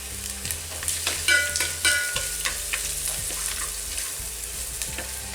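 Sliced onions sautéing in a pan for restaurant-style ghee rice, a steady soft sizzle with several sharper scrapes and stirs of a spoon, close and moderately quiet, no voices.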